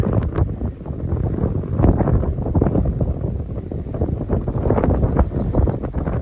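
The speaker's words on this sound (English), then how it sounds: "Very windy up here today, though." Strong, gusty wind on a mountaintop in the Dolly Sods Wilderness roars and buffets the microphone steadily throughout, with no voices.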